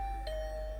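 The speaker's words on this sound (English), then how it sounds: "I've been ringing your bell constantly since yesterday" A doorbell in the video game The Hundred Line gives one soft chime that rings out in a steady sustained tone, alone and moderately quiet.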